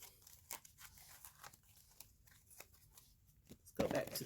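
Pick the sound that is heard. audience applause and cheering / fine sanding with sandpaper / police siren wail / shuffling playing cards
shuffling playing cards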